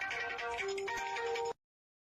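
Mobile phone ringtone of an incoming call, a short melodic electronic tune played for about a second and a half before cutting off abruptly, faint and alone.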